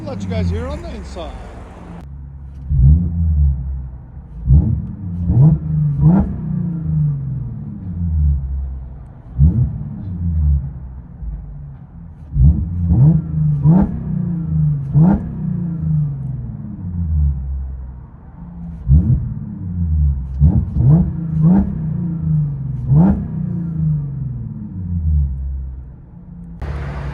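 Interior drone of a 2018 Audi A7 with a 3.0-litre supercharged V6 and mid and rear muffler delete, a deep, steady rumble that swells into repeated rev climbs and shifts, close and loud throughout.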